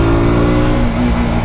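A KTM RC 200 single-cylinder motorcycle on a racetrack, its engine loud and close with a steady buzzing drone and a brief dip in pitch as it shifts up a gear without the clutch.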